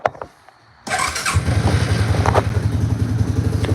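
A cold-natured four-wheeler ATV engine cranks and fires with throttle held open and no choke. After a few faint clicks it catches abruptly and settles into a loud, close, steady chugging run.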